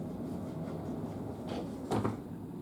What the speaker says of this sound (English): there's a discreet little sliding door here